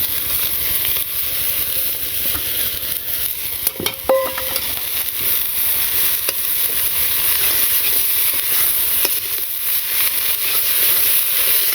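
Mustard greens sizzle loudly in a hot pan of oil seasoned with salt and turmeric, a continuous dense frying hiss with a few utensil clicks near the start.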